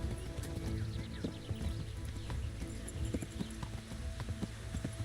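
Horse hooves clip-clop at a steady trot through a medieval Bohemian countryside in a video game, with a brief whinny. The hoofbeats stay loud and close, with a busy layered game soundscape behind them.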